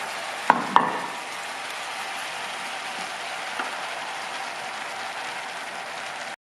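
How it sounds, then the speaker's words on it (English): Steady sizzling of deer meat frying in a pan for stew, a constant hiss with a couple of sharp knocks near the start. "The meat is frying."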